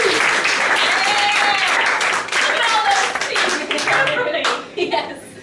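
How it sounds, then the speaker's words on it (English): Loud theatre audience applause at an improv comedy show, dense continuous clapping with voices and shouts mixed in, tapering off near the end. "please applaud now."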